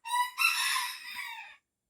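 A little bantam rooster crows once, close and loud, a bright strained call that breaks and rises into a sustained harsh note before trailing off into silence.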